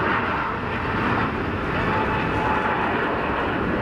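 A Dassault Falcon three-engine business jet at an airport, a continuous loud, even engine roar with no breaks.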